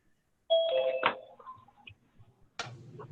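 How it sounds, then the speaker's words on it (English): A doorbell rings at an executive board meeting as people arrive, a clear two-tone chime followed by a second fainter ring and a brief later clatter, all fairly quiet and without talk. "we do still have some people walking in the door and ringing the bell"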